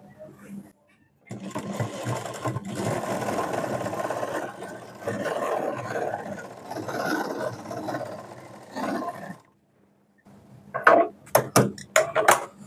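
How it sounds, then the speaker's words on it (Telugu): A sewing machine runs along semi patiala pant fabric in two long whirring stretches, up close, followed by a few sharp clacks and thumps near the end after a brief pause. "క్లాత్ని కూడా టర్న్ చేసుకుని పైన మళ్ళీ ఇంకో స్టిచ్ వేసుకుందాం"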